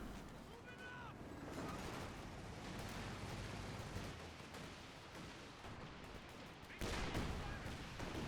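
Rolling rocket barrage from a Land Mattress in Company of Heroes 2, a sustained rumble of launches and blasts with a louder burst near the end, beneath game noise and a voice.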